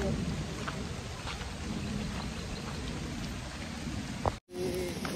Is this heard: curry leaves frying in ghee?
no